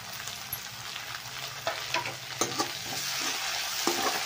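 Onion and tomato fry in a pan with a continuous close sizzle, broken by several sharp scrapes and knocks of a spatula stirring them.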